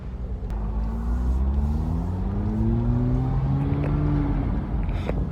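A freshly rebuilt Porsche Boxster S engine rumbles and pulls away from a driveway on its first drive, its pitch rising smoothly as it accelerates, loud and close with a steady low growl.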